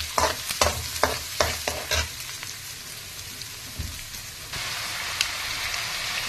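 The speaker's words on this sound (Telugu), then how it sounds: "ఇవి కొద్దిగా మనము ఎర్రగా వచ్చే బ్రౌన్ కలర్ వచ్చే వరకు వేపుకోవాలి." Onion and curry leaves fry in a pan with a continuous close sizzle, while a utensil stirs and scrapes in several quick strokes at the start, leaving steady frying after that with no talking.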